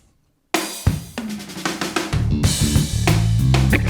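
Funk guitar lick built on muted dead-note strums, played over a drum beat after a brief silence, with choppy percussive rhythm and a steady groove, loud and close.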